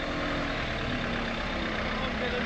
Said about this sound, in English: So here's Alan, just pulling away from the motorhome service point